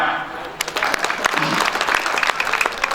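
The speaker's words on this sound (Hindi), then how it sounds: "तालियां" Audience applause at an educational institution's poetry recital breaks out after a spoken line, a short burst of uneven clapping mixed with voices over about three seconds.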